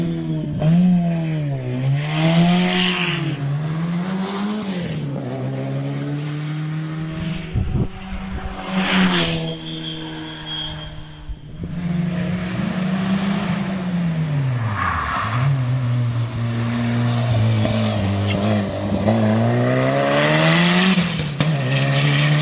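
A historic Alpine A110 race car with a 2-litre four-cylinder engine climbs a hill at a hillclimb event, its engine revving hard and changing pitch through gear changes, loud and near, with a brief tyre squeal late on.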